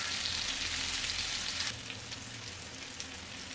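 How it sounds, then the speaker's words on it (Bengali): Bottle gourd frying in a pan, a steady loud sizzle that drops to a quieter, even crackle partway through, with no talking. "লাউগুলো ভালো করে ভেজে নেবো"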